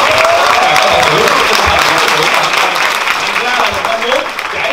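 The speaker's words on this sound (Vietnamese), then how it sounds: "Xin một tràng pháo tay lần nữa" Party guests applaud during a casual weekend product-launch gathering, a steady, dense wash of clapping from a crowd, loud and close throughout, with some voices mixed in.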